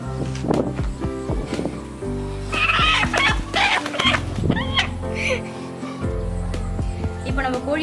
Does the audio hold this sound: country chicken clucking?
yes